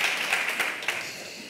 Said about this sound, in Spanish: ¿Hay aplauso?